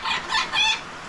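A rooster in a village in Guyana crows once, a short, bright, strained call in a few rising and falling pulses, close and fairly loud with no talk over it.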